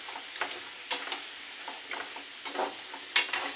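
Potato chips frying in hot oil, giving a steady low hiss broken by irregular crackling bursts and sharper pops, close and fairly quiet, with no talking.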